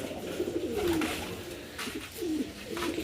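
A pair of Kalanka pigeons give soft, low cooing calls, two or three rolling coos at close range against a quiet background hiss.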